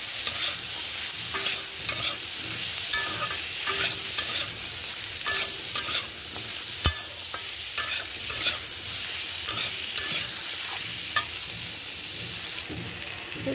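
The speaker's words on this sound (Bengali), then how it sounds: "গ্যাসের ফ্লেমটা কমিয়ে দিয়ে কষিয়ে নেব" Spices with salt, turmeric and chili powder sautéing over a low gas flame in a pan for a prawn and Malabar spinach dish, a continuous close sizzle broken by frequent scraping stirs of a spatula throughout.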